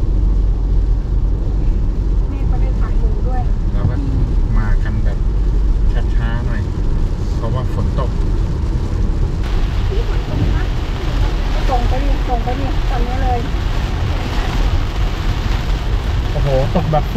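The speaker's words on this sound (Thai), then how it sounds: "อันนี้ฝนตกนะครับ" Steady rain pouring on a car driving through heavy rainfall on a road trip in Thailand, a continuous hiss and wash over engine and road rumble, with people talking throughout.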